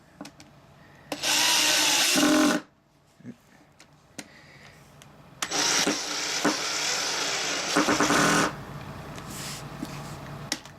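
A power drill drives screws into a chair in two loud whirring bursts, the first short and the second longer with a steady hum, separated by quiet handling clicks.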